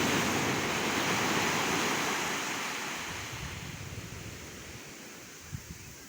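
Pacific Ocean surf at Playa Hermosa rolls onto the beach as a steady, broad wash of breaking waves, loud at first and then easing slightly, heard alone with a touch of wind.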